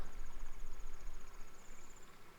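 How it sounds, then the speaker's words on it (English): Crickets chirp steadily through a nighttime scene in Zelda: Ocarina of Time near the castle, a thin high trill pulsing evenly over a low, rumbling ambient background, moderately quiet with no voices. "Hear the crickets?"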